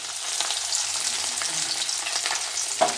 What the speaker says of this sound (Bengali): মাছটা লেসটা ভেজে নিচ্ছি